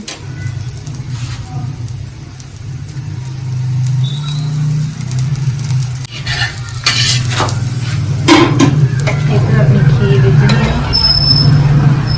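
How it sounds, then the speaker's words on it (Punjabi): Puri (poora) frying in hot oil, a continuous close sizzle that swells louder midway, with stirring clatter and utensil clinks over it and background chatter. "ਹੁਣੇ ਆਪਾਂ ਤਲ ਦਿੰਨੇ ਆ ਹਾਂ ਦੇਖੋ ਦੇਖੋ ਆਪਣਾ ਪਹਿਲਾ ਪੂੜਾ ਬਣ ਰਿਹਾ"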